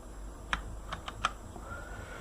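Four or five quick, close computer keyboard keystrokes tap out crisply in a quiet room during work on an Arch Linux setup, each a sharp isolated click.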